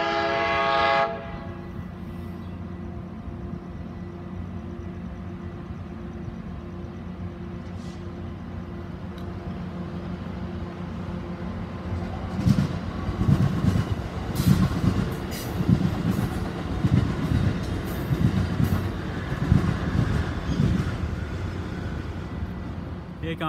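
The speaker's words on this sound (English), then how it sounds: "578 rolling through Carlsbad Village." An Amtrak train passes through Carlsbad Village station. A horn blast opens the clip, then a steady rumble grows into loud clattering wheels and rolling cars passing nearby.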